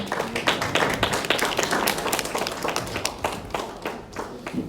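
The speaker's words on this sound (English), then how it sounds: "Let's give one more hand clap for Pastor John Sophie and Pastor John Park" A church congregation claims hands steadily in warm applause, a dense continuous patter of many hands that stays loud throughout.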